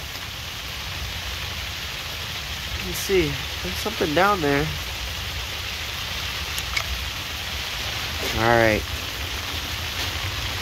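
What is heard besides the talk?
freezing rain falling in Minnesota in January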